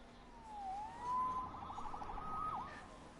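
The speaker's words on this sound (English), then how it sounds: "Saved by the siren." A police siren in the video game Marvel's Spider-Man wails in rising and falling sweeps, moderately loud over a quiet background with a faint low hum.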